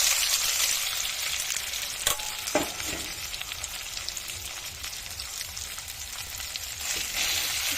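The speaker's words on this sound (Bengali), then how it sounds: "আর জিরে গুঁড়ো, লঙ্কা গুঁড়ো, হলুদ, লবণ দিয়ে মেখে নিয়ে এগুলোকে ভেজে নিচ্ছি তেলে" Soybean chunks coated in cumin, chili, turmeric and salt fry in a little oil, giving a loud, steady sizzle with occasional stirring clatter and crackle throughout.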